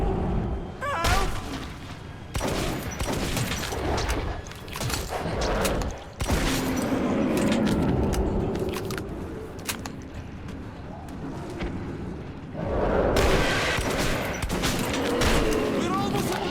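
Gunfire in the shooter Metro 2033 Redux, fired in bursts and rapid volleys with heavy booms, mixed with shouting voices and action noise, loud and close throughout.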